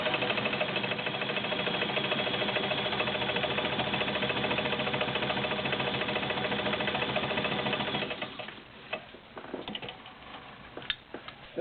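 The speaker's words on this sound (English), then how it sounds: "As you can hear, the motor's wonderful and smooth." A vintage White model 3355 zigzag sewing machine with a 1.3 amp motor runs at a steady, smooth whir for about eight seconds, then slows and stops, leaving scattered clicks and mechanical taps.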